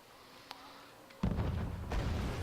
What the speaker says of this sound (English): Just fire a few shots around.